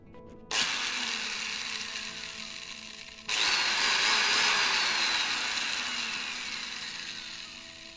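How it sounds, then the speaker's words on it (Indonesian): An electric angle grinder, tested on a 900-watt household supply, spins up abruptly with a loud high whine, then surges even louder midway and holds a steady, slightly fading roar with no speech. "Tes yang pertama adalah gerinda."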